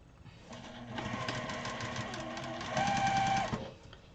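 Sewing machine joining blue and orange quilting fabric pieces, a steady fast mechanical whir with rapid needle clatter that swells louder near the end, running alone without talk.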